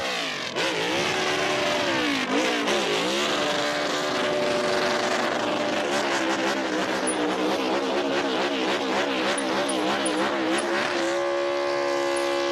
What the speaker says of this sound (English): when he was up on the rev limiter right there